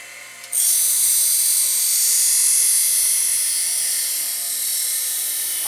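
A surface grinder's motor starts up and spins its stone at 3,500 RPM in a forge workshop, giving a sudden loud, high, steady whine that holds evenly after the switch-on, with no talking.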